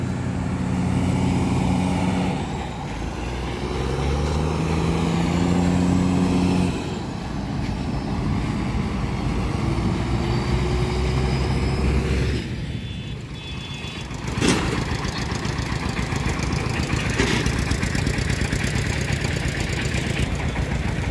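A motor launch engine on a river at Santipur gives a steady, loud, close droning rumble with a constant harmonic hum that holds throughout, with no voices over it.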